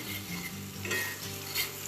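Mushrooms sizzle loudly as they fry in a pan and are stirred, with continuous hissing and scraping utensil sounds over a low steady hum.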